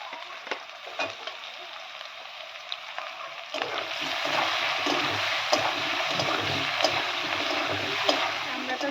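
Onions dropped into a hot pan start a soft sizzle that steadily swells into continuous frying hiss with faint stirring scrapes, heard up close without speech.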